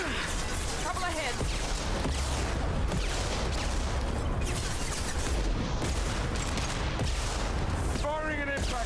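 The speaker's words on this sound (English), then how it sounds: "Firing an impact gun." Heavy impact-gun blasts in Mass Effect 2 remastered, loud booming bursts and crashes filling the scene, mixed with dense battle noise and a voice talking over the action.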